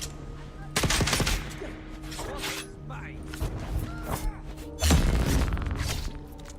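Gunfire in the video game Dune Awakening comes in loud bursts of sharp shots and impacts with thumps, mixed with game sounds, while a voice speaks between volleys.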